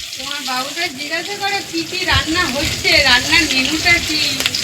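Spinach fries in a pan with a busy, continuous sizzle while a person talks over it close by.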